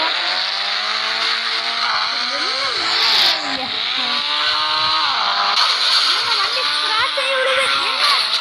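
A motorbike engine in the mobile game Indian Bike 3D, a loud, continuous synthetic whine that rises and falls in pitch as the bike speeds up and slows, with a person talking over it.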